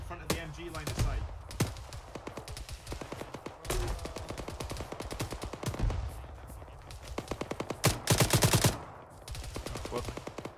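Bursts of machine gun fire in Arma 3 rattle in rapid, dense volleys, stopping and starting, with some louder close strings and talk faintly underneath.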